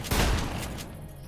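A shotgun blast in a modded Minecraft survival game, one loud close boom that decays into a rumbling tail.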